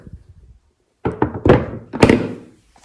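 A hard case lid is shut in a setup for finishing small landscape pieces, giving a few close thunks and knocks in quick succession after a moment of near silence.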